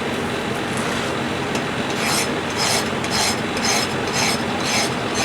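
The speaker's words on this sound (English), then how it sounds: "I've got a couple of files that I use. This is just a wood file" A wood file rasps rhythmically across a Japanese lantern with repeated close, scratchy strokes and no talking.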